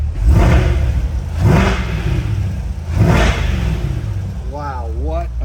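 A 2021 Chevrolet C8 Corvette Z51 engine revs hard three times in quick bursts with exhaust ports open in Z mode, loud and close, with a short voice at the end.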